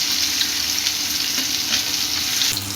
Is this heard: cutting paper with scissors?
no